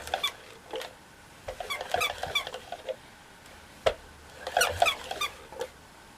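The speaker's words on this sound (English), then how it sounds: "for as long as you push it along, it will in fact make those barking sounds" Vintage Scamps walk-and-cuddle toy puppy being pushed along, its squeaker giving a series of short, high yappy barks in bursts with brief pauses, close and fairly quiet with no talking.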